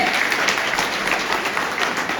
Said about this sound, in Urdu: تالیاں بجتی رہیں گی ماشاءاللہ